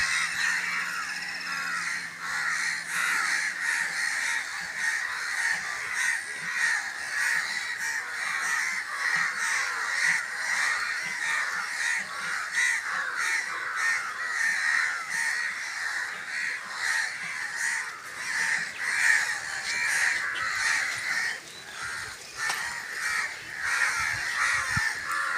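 Numerous crows caw loudly and continuously in a village, a dense overlapping chorus of harsh calls from many birds at once, sustained throughout with no pause and no talking.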